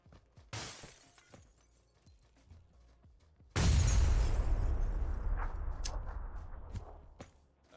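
A grenade goes off in a video game with a sudden heavy boom and shattering debris, followed by a long rumbling decay. Scattered smaller pops and clicks come before and after the blast.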